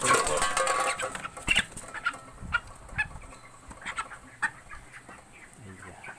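Broiler chickens, 21 days old, cluck in short, scattered bursts at close range, with faint background voices and some handling noises between calls.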